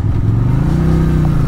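A QJ Motor SRV 400 motorcycle engine runs close by with a steady, throaty drone that holds even and slightly builds through the brief moment, without any talk.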